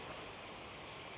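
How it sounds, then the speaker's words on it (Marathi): Rain falls at a bus depot workshop as a steady, faint, even patter of drops with no other sounds. "न सांगता पाऊस आलाय आज"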